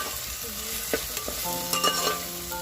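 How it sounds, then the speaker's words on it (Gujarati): Ginger garlic paste frying with onions in a pan, a steady sizzle with scraping stir strokes and light clinks of the spoon against the pan, close and moderately quiet, with no talking. "એની અંદર આપણે 50 ગ્રામ જેટલી આદુ લસણની પેસ્ટ નાખી દેવાની છે અને એને સરસ રીતે આપણે શેકાવા દેવાની છે"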